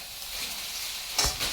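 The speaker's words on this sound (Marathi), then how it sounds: "फोडणी द्यायची." Spices hit hot oil while tempering a vegetable dish, a soft continuous sizzle followed by a sudden louder crackling burst near the end, close and alone.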